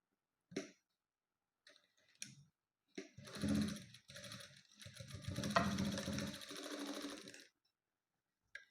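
A sewing machine stitches fabric for a hanging tassel decoration. A few short isolated clicks come first, then two loud, close, whirring runs of stitching, the second longer and steadier.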